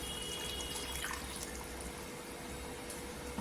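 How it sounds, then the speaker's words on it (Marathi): Steady running water pours and splashes continuously into a pan of spices, a dense broadband wash of liquid with no voices. "इथे पाणी टाकायचं"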